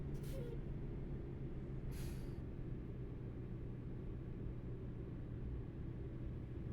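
Truck air brakes in the American Truck Simulator video game give two short hisses, one at the start and one a couple of seconds later, over a quiet, steady low engine rumble.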